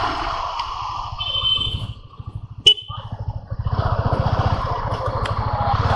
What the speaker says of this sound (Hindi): बहुत ही कंफर्टेबल एंड रिफाइंड इंजन है।